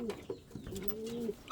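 A fantail pigeon gives a soft, close, rolling coo, a few short notes followed by a longer drawn-out call, with no talking.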